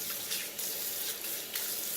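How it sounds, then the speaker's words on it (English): Hot water runs steadily from a tap as hands are rinsed underneath, a constant near hiss with a few brief splashy surges. "You're going to rinse that off, and I use pretty hot water myself."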